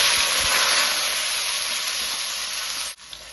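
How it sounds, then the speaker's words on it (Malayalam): Onions, green chilies, garlic, ginger, tomato and curry leaves sautéing in hot oil for a Kerala chicken curry, giving a steady, loud broadband sizzle that runs without pause and cuts off abruptly near the end. "അതിന്റെ കൂടെ കുറച്ച് സവോളയും പച്ചമുളകും വെളുത്തുള്ളിയും ഇഞ്ചിയും തക്കാളിയും കുറച്ച് കറിവേപ്പിലയും കൂടെ ഇട്ട് ചേർത്ത് ഒന്ന് വഴറ്റിയെടുക്കാം"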